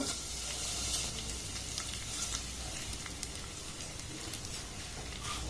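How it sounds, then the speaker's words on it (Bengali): Vermicelli fries in hot ghee in a wok for a sweet zarda semai, giving a steady close sizzle with occasional scraping stir clicks throughout, no voices. "এবার সিমাইটাকে একটু আমি নাড়াচাড়া করে ভেজে নেব।"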